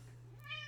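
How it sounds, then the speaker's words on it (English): A pet cat gives a short, faint meow near the end of a brief stretch, over a steady low hum with no talk. "That is my cat wanting to join the podcast."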